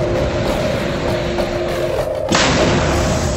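An experimental electromagnetic railgun fires a projectile with a sudden, sharp, loud crack that cuts through a steady low roaring rumble and leaves a broad hiss afterward, with no voices.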